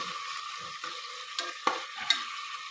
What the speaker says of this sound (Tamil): இப்போ நல்லா வெங்காயம் வதங்கட்டும்.